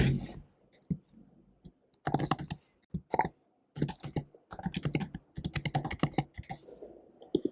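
Typing on a computer keyboard in several quick bursts of crisp, close key clicks separated by brief pauses, with no talking.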